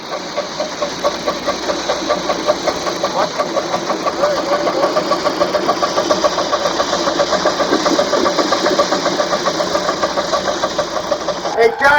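A 2.5-inch scale narrow gauge model steam locomotive, built for 7 1/2-inch track after a Colorado and Southern engine, chuffs in a steady rapid rhythm close by for the whole stretch, with a brief whistle-like squeal at the end.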